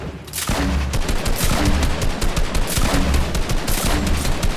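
Gunfire in Fortnite: dense, loud, continuous bursts of automatic shots with rhythmic booming thumps underneath, filling the whole stretch without talk.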